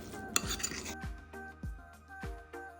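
A spoon works crushed chili paste and a tablespoon of oil together in a bowl, making quiet, close knocks and scrapes at a steady rhythm of roughly two per second.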